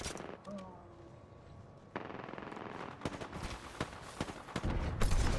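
Rapid bursts of gunfire crackle in an Apex Legends match as the last two teams fight, with sharp shots and automatic fire growing denser toward the end and a voice briefly heard.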